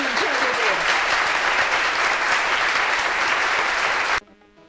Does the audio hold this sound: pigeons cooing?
no